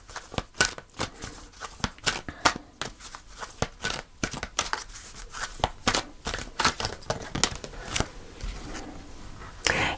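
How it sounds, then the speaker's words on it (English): Tarot cards being shuffled and drawn from the deck, a rapid run of crisp papery flicks and riffles with short pauses, close and fairly quiet with no talking. "So I'm going to pull a final card."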